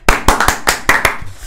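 Several sharp hand claps in a quick, slightly uneven rhythm, close by and loud, with no voices.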